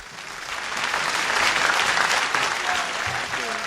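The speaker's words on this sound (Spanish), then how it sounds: "Fuerte el aplauso para ellos." Audience applause for a live acoustic band at an evening event in Guadalajara, a steady dense clapping that swells and holds across the clip, loud and close, with no talk over it.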